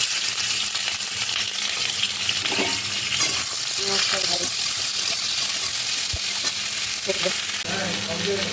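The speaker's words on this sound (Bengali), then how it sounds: "পেঁয়াজটা আমার ভাজা হয়ে গেছে।" Onions fry in a pan for a mutton curry with a continuous loud sizzle, stirring scrapes and a few clinks, with brief bits of talk in the background.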